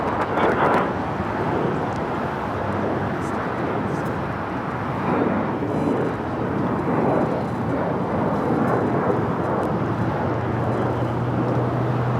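A jet airliner takes off from runway 25 right at LAX: a broad, steady roar of engine noise holds loud and constant throughout, with a low rumble swelling near the end.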